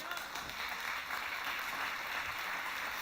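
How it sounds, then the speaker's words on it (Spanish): A church congregation applauds during a sermon, a faint, sustained wash of many hands clapping together without a break. "Denle un aplauso a Dios."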